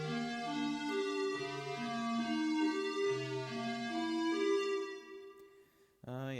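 A 3x OSC synth crash in FL Studio, treated with Soundgoodizer, Fruity Reverb and vinyl, plays a sustained, bright harmonic chord pattern with shifting low notes for about six seconds, then drops out before a short new swell begins.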